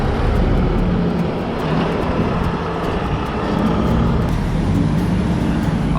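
A truck loaded with broken concrete from a demolition job pulls away, a loud, steady engine and road rumble that stays close and even throughout.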